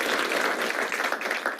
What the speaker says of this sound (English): can we just give another round of applause to all of the organizers for today?